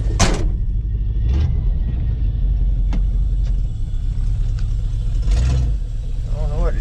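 A 1977 Chevy K20 squarebody pickup, abandoned for over ten years, drives with a steady loud low engine rumble throughout, a few brief knocks and clunks over it and faint voices in the background.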